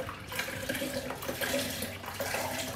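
Milk poured into a container for a mango milkshake, a steady close liquid gush and splash lasting a few seconds without talk.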